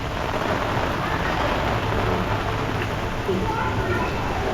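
Steady rain falling over a flooded residential street in South Chennai during the 2023 floods, a dense, continuous wash of noise with no breaks, close and fairly loud throughout.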